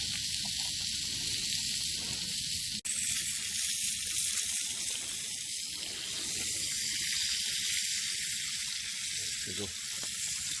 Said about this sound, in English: the bacon is on the cast iron sizzle